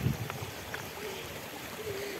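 A small river runs over rocks in the Dragon Canyon near Alekseevka, Lazarevskoye, Sochi, a soft steady trickle and gurgle close by, with brief voices in the background.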